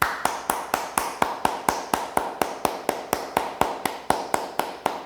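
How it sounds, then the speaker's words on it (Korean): Steady, evenly spaced clapping in unison by a church congregation during a Sunday service, about four claps per second, continuing without a break and with no voices. "우리 하나님께 영광과 감사의 박수를 올려드리겠습니다"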